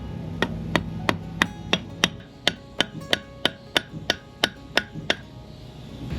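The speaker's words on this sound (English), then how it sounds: "Let's use a rubber hammer." Rubber hammer strikes a boat engine part on a catamaran, about fifteen sharp evenly spaced knocks at a steady rhythm, close and fairly loud over a faint background.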